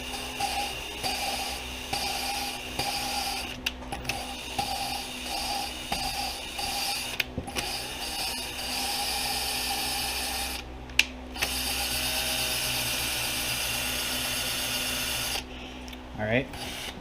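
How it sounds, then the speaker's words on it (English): A drill spins a valve back and forth to lap it in its seat on a 1993-2009 Honda 300ex engine. It makes a rhythmic grinding, rubbing whir with brief pauses, and a voice is heard at times. "Put the drill in forward for a bit."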